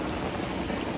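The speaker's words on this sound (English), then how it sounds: "it just started raining really heavily" Heavy rain pours down outdoors beside a pool, a dense, steady hiss of drops striking water and surfaces, loud and continuous with no voices.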